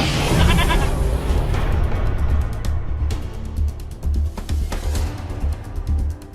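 A goat bleats in a busy indoor scene with steady low background noise. Brief bleats surface over the din, and faint clatter and murmuring run throughout.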